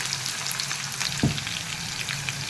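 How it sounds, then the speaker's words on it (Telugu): Onion and brinjal fry in a pan for a green dal and eggplant curry, a steady close sizzle with a brief thump near the middle and no talk. "ఉల్లిపాయ వేగిందండి వంకాయ వేసుకున్నాం"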